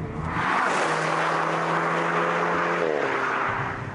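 A Volkswagen Scirocco R with 265 horsepower and a DSG gearbox accelerates hard, its engine note climbing steadily with a quick gear change near the end, loud and close without talk.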